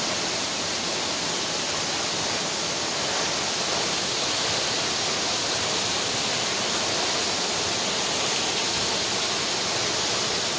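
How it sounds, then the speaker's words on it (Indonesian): Jantur Inar waterfall in East Kalimantan pours in a steady, loud, broadband roar of crashing water that holds unbroken and close throughout, with no voices over it. "Wow, airnya terjun."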